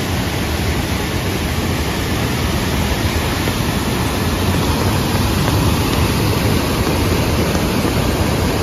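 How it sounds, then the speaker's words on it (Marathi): Loud, steady roar of high-pressure river water rushing during monsoon rain in Rajapur, Konkan, a dense, continuous wash of noise with no pauses and no voices. "खूप पाण्याला प्रेशर आहे."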